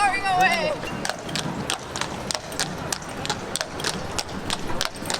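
Horse hooves clip-clopping on a street in Bruges, Belgium, a steady run of sharp, evenly spaced knocks close by, with people talking over the start.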